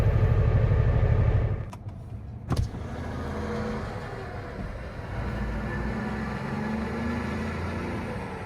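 Semi truck engine running with a low steady rumble, close by, briefly interrupted by a couple of sharp knocks before the idle settles back in.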